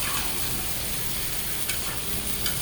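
Dried fish curry with potatoes and vegetables stir-frying in a pan, a steady broadband sizzle with occasional scraping stirs, close and continuous.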